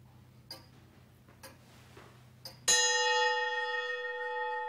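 A loud clock ticks about once per second in a quiet room, three sharp ticks in a row, then strikes a ringing chime that hangs and slowly fades.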